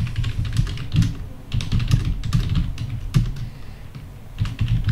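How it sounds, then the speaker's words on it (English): Rapid typing on a computer keyboard while entering blog post text into an email tool, a steady close clatter of keystrokes with irregular bursts throughout, no voices. "you can also type in here your a bit of information"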